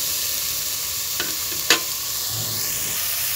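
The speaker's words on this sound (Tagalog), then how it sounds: "so igisa natin yung kalabasa" Squash (kalabasa) being sautéed in a pan for ginisang munggo, with a steady soft sizzle and a couple of brief stirring scrapes, close and unaccompanied by talk.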